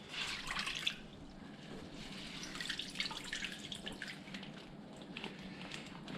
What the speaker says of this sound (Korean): 빨아가지고 물을 깨끗하게 짜주고